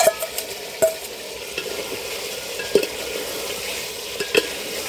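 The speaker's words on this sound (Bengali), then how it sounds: "মাংসের মধ্যে এবার আলুগুলো দিয়ে দিচ্ছি, আর তার সঙ্গে কিছু কাঁচা লঙ্কাও আছে।" Potatoes and green chillies tossed into chicken for a home-style chicken biryani, stirred in a pan with a steady close sizzle of frying and a few sharp scrapes and knocks of the spoon against the pot.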